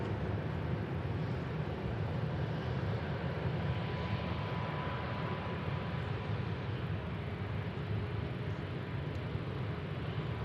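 Jet engines of an Airbus A350 airliner roar at an airport: a broad, steady rumble from nearby, unbroken for the whole stretch, with no voices over it.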